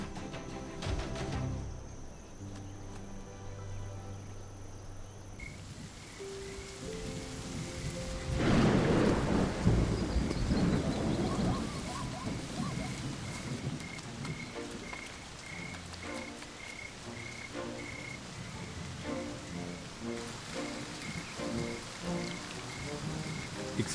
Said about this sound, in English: the rain pours down in the rainy season